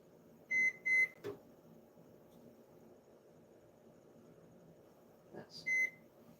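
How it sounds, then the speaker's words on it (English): A microwave timer sounds two bright electronic beeps, then a click and thud, a quiet pause, then two more beeps over a low hum. "I set the timer on my microwave."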